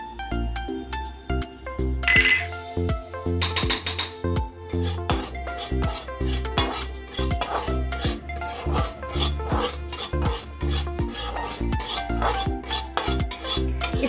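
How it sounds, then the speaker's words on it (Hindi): Semolina roasting in a little ghee in a pan, stirred with a utensil, giving steady rhythmic scraping and clinks of metal on the pan, with a few brighter dings, continuing without talk throughout. "थोड़ी सी घी में हम अपनी सूजी को भी रोस्ट करते हैं।"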